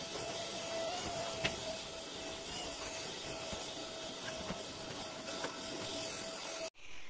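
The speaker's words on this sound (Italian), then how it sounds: "io l'aspirapolvere la passo anche sopra il divano" A vacuum cleaner runs at maximum power during daily house cleaning, a close, steady whining hiss with a faint tone and occasional light clicks, then cuts off abruptly near the end.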